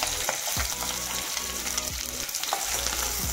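Onion sautéing with whole spices in a pan for a restaurant-style soya chunks curry, a dense, steady sizzle with rhythmic spatula scrapes recurring every second or so.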